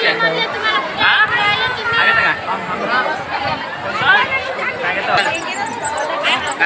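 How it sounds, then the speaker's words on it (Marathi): Dense crowd chatter fills a busy New Year food queue at a temple meal, many overlapping voices at steady loudness throughout with no single voice standing out. "आता लय गर्दी झाली हो याच्यात"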